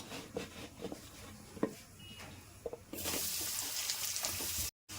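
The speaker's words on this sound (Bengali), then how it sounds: "এবার ভেন্ডিগুলো তেলে ভেজে নেব।" Okra coated in gram flour frying in hot oil in a wok: a few soft clinks and stirring knocks, then a loud, steady sizzle suddenly takes over midway and continues with a brief dropout near the end.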